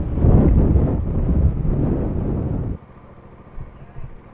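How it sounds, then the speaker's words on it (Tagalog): Strong wind buffets the microphone of a rider on a Bajaj Dominar 400 motorcycle, a loud roaring rush for nearly three seconds that suddenly drops to a low rumble with a few gusts. "Lakas pa ng hangin."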